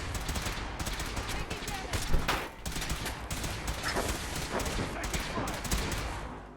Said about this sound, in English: We got the kill shot on him.